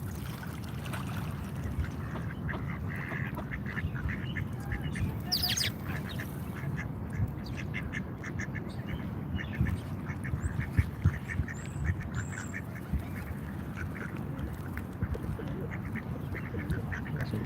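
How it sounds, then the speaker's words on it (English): Ducks quack while chasing each other around outdoors in Washington DC, scattered quacks over a steady wash of ambient noise and distant bustle, with occasional flapping and faint voices in the background. "Oh, these two ducks are chasing each other around."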